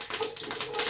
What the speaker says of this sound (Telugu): కొద్దిగా ఆవాలు, ఒక స్పూన్ జీలకర్ర, కొంచెం కరివేపాకు వేసి వేయించుకుందామండి.